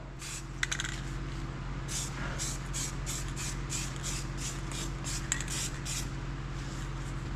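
Short hissing bursts of aerosol spray puff out in an irregular series onto a Detroit Diesel Silver 4-53T engine, over a steady low machine hum.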